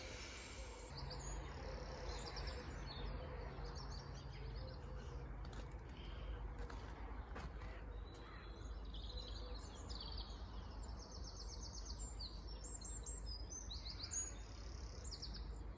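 Several kinds of birds chirp and twitter in quiet countryside beside a road, faint and scattered, with thin high calls coming in bursts from nearby trees over a soft steady background.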